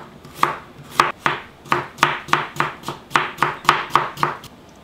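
A small cucumber being julienned with a knife on a cutting board, about fifteen crisp, evenly paced chops close by, each sharp tap followed by a short decay, with no voices.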